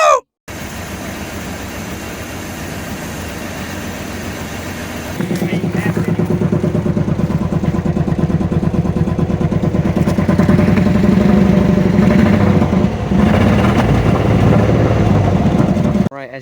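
An old Chevy S10 pickup engine idling close by, a steady rough rumble that grows louder and fuller partway through, with clattering mechanical noise and talk over it.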